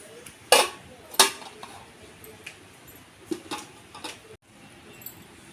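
Metal pan set down on a home kitchen stove, two sharp close clanks followed by softer scattered clinks and scrapes against quiet background hiss, with no voices.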